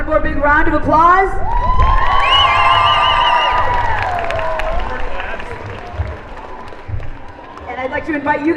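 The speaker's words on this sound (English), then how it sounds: "One more big round of applause." Audience at an outdoor lake-day awards ceremony applauds and cheers loudly, with whoops and shouts over sustained clapping that gradually fades, followed by a voice speaking.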